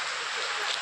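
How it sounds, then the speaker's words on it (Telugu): Heavy rain pours down in a dense, even hiss, a steady close wash of falling water with no break across the short moment. "ఇదిగో వర్షం"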